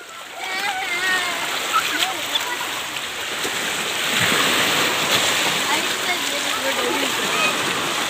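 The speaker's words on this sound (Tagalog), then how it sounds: "makikita ninyo ang lakas ng mga alon" Strong surf crashes and splashes on a crowded beach, a loud, continuous roar of breaking waves that swells midway, with people talking over the water.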